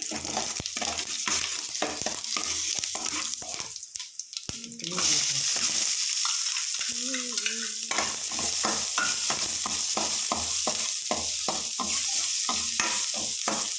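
Onions stirred and frying in a pan with mustard seeds on a gas stove, a steady close sizzle broken by repeated spoon scrapes and stirs, with a brief quieter lull midway.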